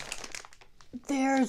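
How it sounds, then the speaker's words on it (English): A plastic package of PURE WET body wipes gives a short, loud, close crinkle right after a brief bit of speech. "that's not so crinkly"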